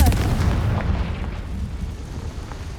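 A Confringo blasting spell goes off in Hogwarts Legacy, a dense, loud rumbling blast that fills the whole moment and slowly tails off without any voices.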